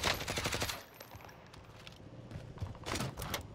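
Bursts of rapid automatic gunfire in a military shooter game, a dense rattling volley up front, a lull of scattered shots, then another loud burst near the end.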